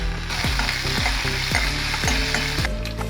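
Cumin, finely chopped green chillies and curry leaves sizzle in two spoons of hot oil in a kadhai for tadka chaas. A steady close hiss runs under repeated scraping stirs, with no talking.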